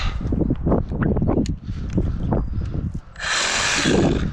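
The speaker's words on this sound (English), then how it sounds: "I brought the Sawzall." A Sawzall reciprocating saw cuts through Miscanthus giganteus rhizomes outdoors, starting with a rough, uneven stretch of work and then breaking into a loud, steady buzzing rasp for the final second or so.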